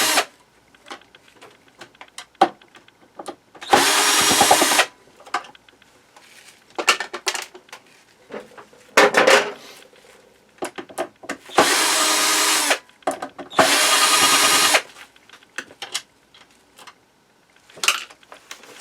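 A power screwdriver backs screws out of an older grilled cheese maker on a workshop bench: several separate whirring bursts of one to two seconds each, broken by clicks, rattles and handling noise, close and clear, with no talk.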